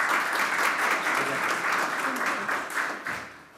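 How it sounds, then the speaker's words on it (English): An audience at a Polish-Norwegian research conference applauds to welcome a speaker to the podium, loud, dense clapping from many hands that holds steady and then begins to thin and fade toward the end. "Please welcome her with an applause."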